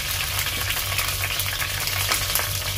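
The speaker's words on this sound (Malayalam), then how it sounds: "നമുക്ക് ആദ്യം കറിവേപ്പില ഇട്ട് കൊടുക്കാം" Curry leaves frying in hot oil for dal fry, a steady dense sizzle with a low hum underneath, continuous and close throughout.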